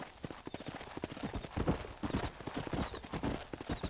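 Horse hooves clip-clop steadily and close in a Red Dead Redemption game scene, a quick repeated rhythm of hoof strikes with a faint game voice mixed in.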